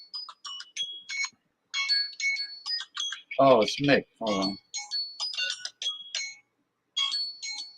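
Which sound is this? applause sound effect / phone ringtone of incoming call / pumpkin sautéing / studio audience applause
phone ringtone of incoming call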